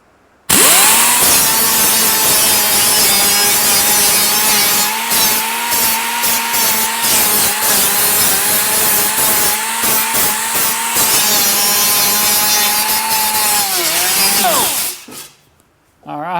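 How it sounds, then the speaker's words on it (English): Car fender metal being ground down ahead of body filler, a loud continuous high whine from the grinder with fluctuating pitch and brief dips as the tool shifts across the panel, cutting off sharply at the end. "let's get back and I'll start grinding away on my fender"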